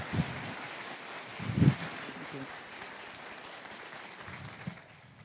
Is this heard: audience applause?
yes